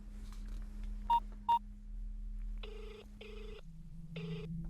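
A telephone redials a call: two short keypad tones, then three bursts of ringback tone over a low steady hum, with no speech.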